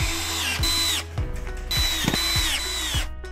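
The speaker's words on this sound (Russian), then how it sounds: "Уголок крепится вровень с торцом царги на саморезы из комплекта фурнитуры." A power screwdriver driving self-tapping screws into a metal corner bracket on a bed frame rail, with repeated high motor whines rising and dropping in short bursts and a ratcheting clutch chatter, close and loud.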